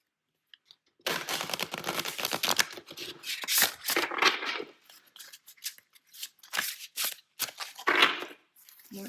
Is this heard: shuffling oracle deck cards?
yes